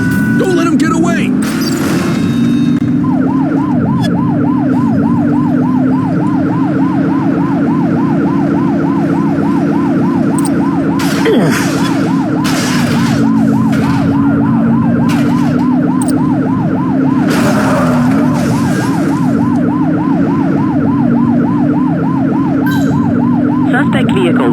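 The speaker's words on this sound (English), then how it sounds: "Remember to turn your siren on." Police car siren in the top-down police game The Precinct, a loud rapid warbling wail cycling continuously over engine rumble, with voices talking over it throughout.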